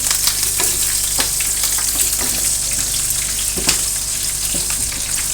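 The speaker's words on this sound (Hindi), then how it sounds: "अब ये मिर्चें इसमें डाल के फ्राई करेंगे।" Green chillies frying in hot oil with ajwain, cumin and mustard seeds make a loud, steady sizzle, with a scatter of sharp pops and spatters and a few stirring knocks, and no one speaking.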